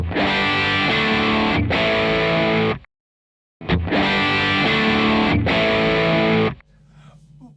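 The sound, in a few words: distorted electric guitar through amp modeler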